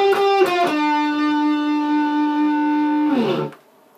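Distorted, effects-laden electric guitar plays the closing phrase of a song's solo: a few quick picked notes, then one long sustained note that bends and trails off into quiet.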